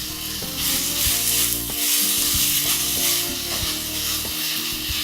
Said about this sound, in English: brown this off. Making sure to cook it completely.